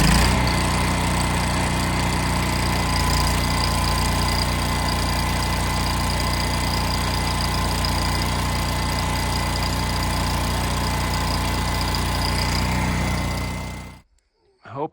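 A welder's engine runs steadily and loudly as roof supports are added to a chicken coop, a constant low drone that cuts off abruptly near the end.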